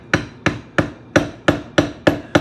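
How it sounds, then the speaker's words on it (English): Seven sharp, evenly spaced taps of a small hammer striking a stamping tool into leather during serpentine tooling, close and crisp with short ringing decays, no voices. "need my little bitty hammer, which is this one here"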